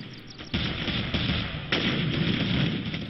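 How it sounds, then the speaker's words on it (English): A BMP's cannon in the Warfare game firing high explosive rounds: a few heavy thumping shots over a dense rumbling battle din, loud and close. "Here's our BMP helping out with the cannon"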